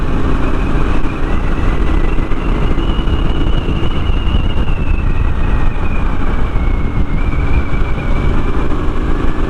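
A Triumph Street Scrambler 900 motorcycle engine drones steadily while being ridden along country roads at harvest time, a continuous loud rumble with wind noise and a slowly shifting tone throughout.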